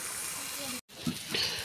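Chili powder and turmeric sizzle loudly in hot oil while being stirred, a steady close frying hiss broken by a brief cut, then scraping stir sounds; a voice speaks faintly under it.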